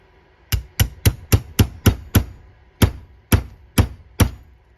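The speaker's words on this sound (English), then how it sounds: "we're just going to give it a little bit of a love tap with the hammer" A hammer taps a rail during MP-17 assembly: about a dozen sharp, close metallic strikes, a quick even run of seven followed by five slower, spaced blows, with no talking.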